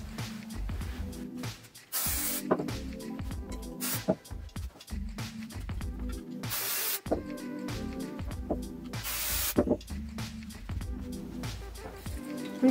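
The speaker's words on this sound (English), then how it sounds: "To stick the viscose to the wadding, I'm using a 505 adhesive spray, and this is a temporary glue" 505 temporary adhesive spray is sprayed onto viscose fabric laid over wadding in three short hissing bursts, each a few seconds apart, with quieter handling noises and low background sound between them.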